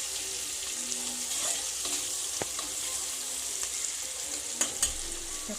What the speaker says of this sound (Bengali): কালো জিরে আর পেঁয়াজ ভালো করে একটু ভেজে নিয়ে তারপরে টমেটোটা দেবো